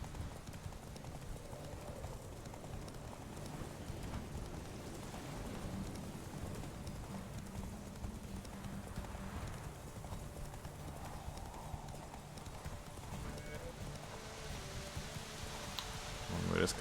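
Rapid rhythmic clip-clop of galloping horse hooves in The Witcher 3, steady and continuous, with faint rain-like hiss and occasional voices in the background.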